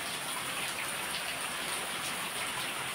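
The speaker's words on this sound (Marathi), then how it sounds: "कंटिन्युअसली पाऊस पडतो एकदम." Continuous heavy village rainfall, a thick uniform hiss of drops striking roofs and ground, close and loud for the whole short stretch.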